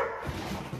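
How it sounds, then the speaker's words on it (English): A pet dog barking indoors near a food container, a single short yip close by and moderately loud, with no talking. "Hey, no barking."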